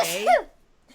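A single short sneeze, loud and close, bursting out and cutting off quickly into near silence.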